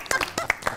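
A few people clap at a Walima wedding-special morning show, a brief, close burst of several sharp claps.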